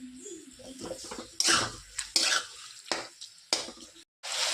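Vegetable chow is stirred and mixed in a pan: a spatula scrapes and tosses in irregular strokes, loud bursts with short gaps between them over a light frying sizzle.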